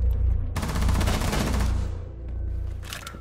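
A rapid fusillade of automatic gunfire in the Rainbow Six Siege video game, loud and close, lasting about a second and a half before trailing off into a lingering rumble.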